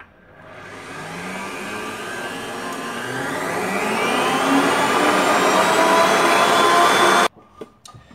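An electric mixer whips cream cheese with chocolate for a no-bake cheesecake, a steady close whirring drone that builds in pitch and loudness for about seven seconds before cutting off abruptly.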